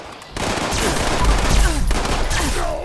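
An Unknown Alien Blaster fires projectiles in Fallout 76: after a brief quiet start, a loud, sustained run of sharp energy shots with whooshing, zipping streaks plays close up for a few seconds.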